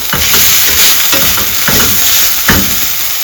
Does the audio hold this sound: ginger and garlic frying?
yes